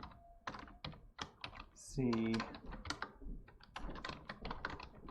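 Computer keyboard typing, including Control-C and Control-V copy and paste shortcuts, heard as quick close key taps running under a person talking.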